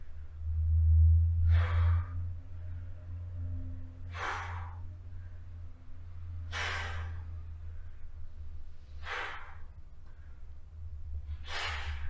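Five slow, evenly spaced breathy exhalations during a fife lesson's breathing exercise, each a soft airy release a couple of seconds apart over a low steady hum.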